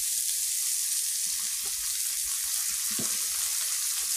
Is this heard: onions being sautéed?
yes